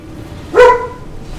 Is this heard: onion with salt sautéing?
no